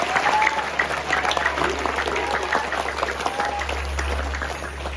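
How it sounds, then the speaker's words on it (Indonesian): Sustained applause from an audience at an Isra Mi'raj religious gathering in Indonesia, steady dense clapping filling the whole stretch with a low background hum underneath. "Tepuk tangan untuk Anda semua."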